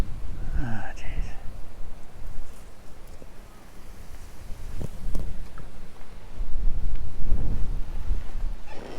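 Wind gusts across the microphone at a riverside fishing spot on the Offord stream, a steady rumbling buffet that swells and fades, with faint distant sounds underneath.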